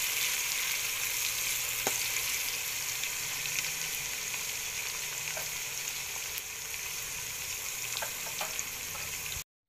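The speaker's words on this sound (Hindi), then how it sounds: "इसे हम सुनहरे कलर में फ्राई कर लेंगे" Steady, dense sizzling of onions frying in hot oil, continuous and close, with a few faint clicks of a utensil.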